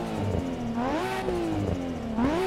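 A Nissan car in the racing game Playground revs hard, its engine tone rising and falling in repeated sweeps with a turbo whistle spooling on top, loud and close with no talk.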